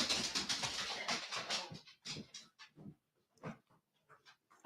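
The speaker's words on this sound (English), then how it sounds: "I've got these crazy dogs running around." Excited dogs pant in quick rhythmic bursts as they run around indoors, close and fairly loud at first, then breaking into scattered short huffs and gaps.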